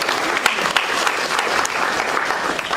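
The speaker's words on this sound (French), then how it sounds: "Applaudissez." Steady, dense clapping from an audience at the final of a public speaking contest, sustained evenly throughout with a few sharper claps popping out of the wash.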